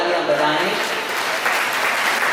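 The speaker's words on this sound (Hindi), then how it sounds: "आप सभी भक्तों ने श्री तेलिक साहू पंच महासभा छा बैठक सेवा समिति के लिए आप सभी जोरदार तालियां बजाएं" An audience of devotees applauds at a Sahu community religious gathering closing a Bhagwat katha, a dense, steady wash of clapping that holds evenly throughout, loud and close, with a voice faintly audible beneath.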